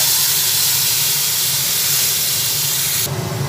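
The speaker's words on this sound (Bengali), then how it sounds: "যে পেস্টটা আগে রেডি করেছি সেই পেস্টটা তেলের মধ্যে দিয়ে দিলাম" Spice paste for a Bengali eggplant curry sizzles in hot oil in a kadai, a loud close continuous hiss that holds steady and then drops away abruptly near the end.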